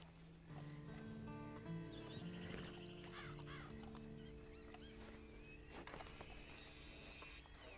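A horse in the video game Red Dead Online clip-clops along at a walking pace with occasional snorts, set against ambient game sound with bird calls in the background, and no voices.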